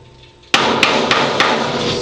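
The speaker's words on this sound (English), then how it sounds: "you just want to tap the screw a little bit" A hammer taps a screw on a Whirlpool washer's lid switch, four sharp metallic knocks spaced unevenly over a steady background hum, close and loud.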